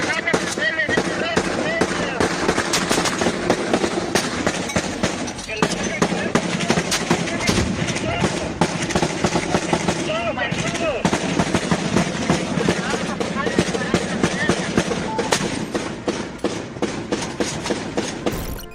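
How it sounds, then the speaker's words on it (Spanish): Dense, continuous crackle of rapid gunfire and sharp blasts in a cartel shootout between the CJNG and the Santa Rosa de Lima cartel, with voices faintly mixed into the chaotic barrage. "El sonido de los disparos y las explosiones demuestran el poder ofensivo del cártel."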